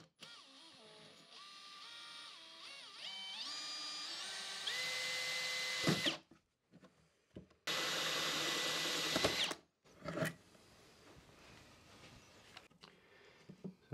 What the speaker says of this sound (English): you're going to just drill out that hole